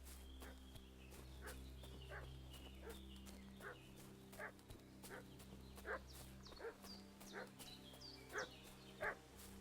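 A dog barks repeatedly in Kingdom Come: Deliverance II, sharp yips and bow-wows at an uneven rhythm, moderately distant and fairly quiet over a steady low ambient hum, with no voices.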